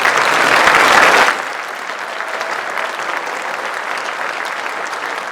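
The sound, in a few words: audience applause for students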